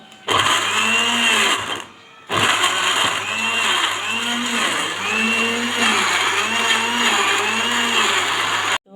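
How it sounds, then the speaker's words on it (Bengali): A kitchen blender whirs steadily while blending beetroot for juice, loud and close, its motor pulsing rhythmically and cutting out briefly once before restarting. "বিটরুটটা ব্লেন্ডার করা হয়ে গেছে"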